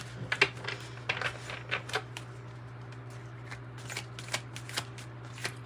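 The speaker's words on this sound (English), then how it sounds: "Let's pull the first card, opening up to your spirit team" Oracle cards for a tarot reading are shuffled and drawn close by, giving a string of soft, crisp flicks and slaps spread through a quiet room over a steady low hum.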